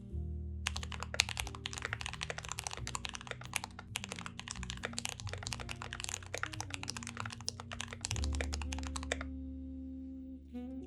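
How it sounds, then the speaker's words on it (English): Fast, continuous typing on a custom mechanical keyboard, a dense stream of crisp close keystroke clicks over a low background hum, stopping abruptly near the end. "It's the best built and best sounding keyboard I have ever used."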